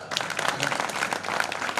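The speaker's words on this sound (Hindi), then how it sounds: "ताली बजाओ जोरदार" An audience at a Hindi kavi sammelan poetry recital gives a short burst of dense, steady applause with many hands clapping together.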